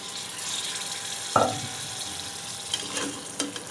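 Mutton trotters frying in masala in a pot, giving a soft, steady sizzle and hiss with a single clunk partway through and a few small clicks after, alone with no talk.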